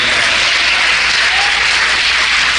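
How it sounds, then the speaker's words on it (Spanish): Loud, dense applause from a church congregation during a Holy Week service, a continuous wash of many hands clapping at once with no talk over it. "Más fuerte los aplausos para Él."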